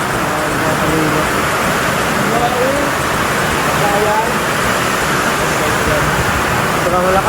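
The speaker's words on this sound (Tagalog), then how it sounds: "Sobrang malakas ng ulan." Heavy rain pours steadily as a loud, dense broadband hiss that fills the whole span, with a voice speaking briefly over the downpour.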